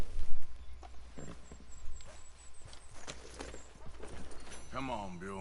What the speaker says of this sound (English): Come on, Bill. Let's go. Come on now. Giddy up